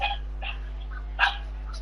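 A dog barks a few short, sharp times at moderate distance, separated by brief pauses, over a steady low electrical hum, with no talking.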